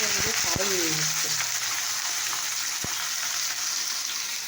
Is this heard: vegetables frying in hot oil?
yes